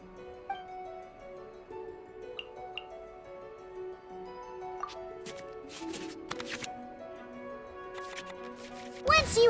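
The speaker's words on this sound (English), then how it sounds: "we can select any number of cards in our hand to shuffle back into the draw pile" Cards are shuffled back into the draw pile in the video game Genius Invokation TCG: quiet clicks and papery swishes over soft music, ending in a louder burst.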